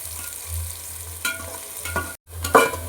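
Chopped onion sizzling in hot oil in a pan, a soft steady fry with occasional stirring scrapes and a brief gap before louder sizzle returns.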